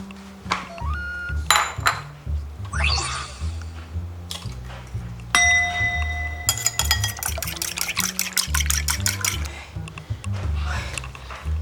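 Ceramic plates and bowls handled in a home kitchen, a series of bright clinks and clatters, some sharp ringing knocks, mixed with running water and rummaging, close and fairly loud.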